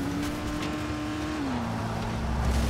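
A car engine droning steadily while driving in Dying Light: The Following, a close, loud, continuous hum whose pitch dips slightly midway, with faint road and tire noise underneath.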